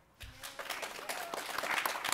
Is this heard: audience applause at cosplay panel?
yes